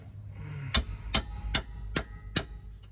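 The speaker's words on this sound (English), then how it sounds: "Hit it with the hammer a couple times to tighten it up right" A hammer strikes a rear brake rotor on a 2014-2019 Toyota Highlander five times in a steady rhythm, each hit a sharp, close metallic knock, with a quiet garage background between blows.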